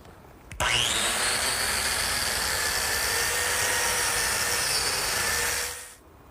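A biscuit joiner spins up with a sharp whine and then cuts slots into wooden table legs in one continuous loud, steady buzzing run of about five seconds before winding down, heard close and alone.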